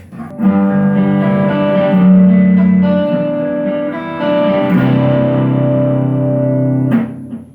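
Gibson Les Paul Studio on the neck pickup, clean tone, warm and round: sustained chords and notes ringing out for several seconds at a time, with no voices.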